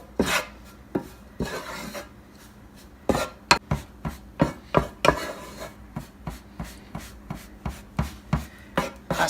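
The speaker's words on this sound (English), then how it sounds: "As you fry, you want to break up any clumps." A utensil scrapes and chops repeatedly through grated coconut frying in a pan, a steady rhythm of sharp scraping strokes, close and distinct.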